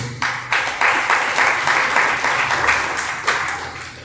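An audience at a Jain religious discourse breaks into sustained, dense applause, loud and steady from start to finish with no talk over it.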